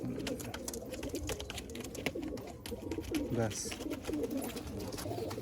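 Madras pigeons in a loft give soft, repeated cooing close by, mixed with light rustling and someone talking over them.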